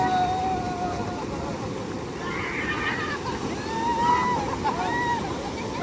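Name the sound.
ocean waves breaking on a beach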